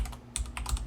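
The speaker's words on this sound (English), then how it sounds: "this is where you're going to type in the exact name of your level" Someone types a level name on a computer keyboard while building a game's main menu in Unreal Engine, giving a quick burst of close, light key clicks with a few sharper taps.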